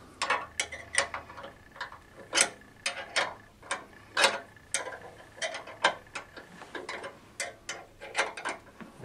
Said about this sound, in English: So you're going to need a 1/2-inch wrench or a socket to remove the bolts that hold the bypass frame in place.